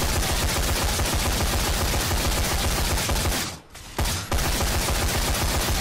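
Rapid, continuous automatic gunfire from a gun in the video game Dead Rising 4, loud and dense, with a brief break before the shooting resumes.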